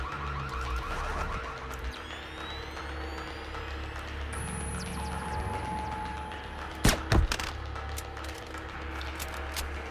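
A looping alarm sounds in the stealth video game Splinter Cell Chaos Theory, a steady electronic tone over a low droning game ambience, with a couple of sharp loud bangs near the end.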